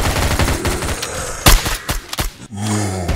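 Rapid gunfire in a VRChat zombie survival game, a loud close burst of repeated shots with a heavy impact in the middle, followed by a growl-like tonal groan at the end.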